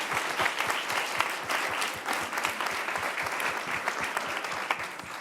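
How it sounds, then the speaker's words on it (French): A conference audience applauds in a dense, steady burst of many hands clapping together, evenly sustained at a moderate distance without pauses or cheering. "Vous pouvez les applaudir"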